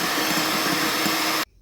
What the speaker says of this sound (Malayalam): എസൻസും കൂടി ചേർത്ത് ഒന്ന് ചെറുതായിട്ടൊന്ന് മിക്സ് ചെയ്തെടുക്കാം